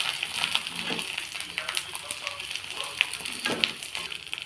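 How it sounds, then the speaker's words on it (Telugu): Poha kurkure vadiyalu deep-frying in hot oil, a steady close crackling sizzle with scattered pops, moderately loud and continuous without speech. "ఇప్పుడు ఆయిల్లో డీప్ ఫ్రై చేసుకోవాలి"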